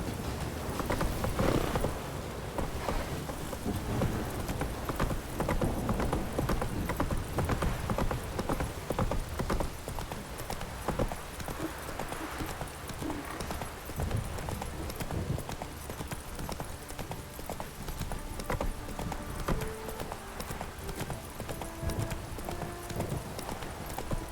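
Roach the horse galloping in The Witcher 3, a steady, rapid clip-clop of hooves running continuously and close, with occasional faint mechanical clicks and a brief whinny-like sound.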